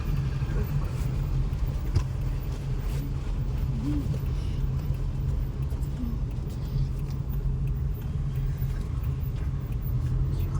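A car's engine hums in a low, steady rumble from inside the cabin as a learner drives, continuous and even throughout with no clear revving.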